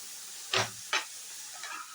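Grated carrots sautéing in ghee in a pan for carrot halwa: two quick spatula scrapes and a softer third stir, faint and close, over a quiet hiss.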